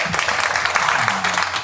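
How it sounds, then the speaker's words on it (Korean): An audience at a Korean church workshop applauds as a speaker is welcomed, with dense, even clapping filling the room and a faint low voice murmuring underneath. "박수 한번 부탁드리겠습니다."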